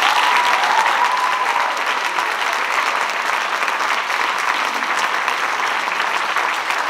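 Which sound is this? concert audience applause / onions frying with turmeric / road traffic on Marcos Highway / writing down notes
concert audience applause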